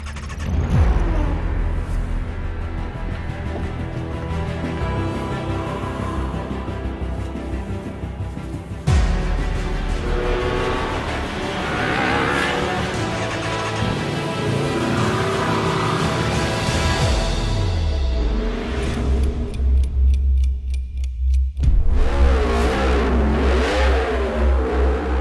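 A Griiip G1 race car in a virtual racing game, engine revving hard and loud with rising and falling pitch through gear changes, a sharp shift near the middle and a drop then fresh acceleration toward the end, no speech.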